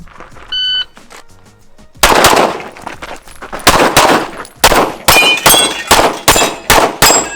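Gunfire rings out on a practical shooting stage with steel targets, opening with a short timer beep, then a fast run of loud, close shots and metallic clangs in quick irregular bursts.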